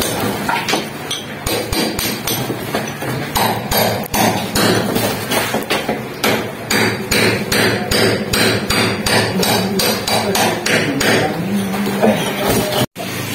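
Rapid, loud hammer blows ring out one after another in a steady rhythm, metallic and close, continuing nearly without pause.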